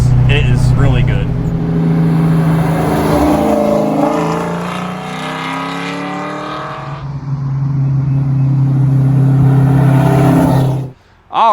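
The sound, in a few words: 1959 Edsel with 351 Cleveland engine accelerating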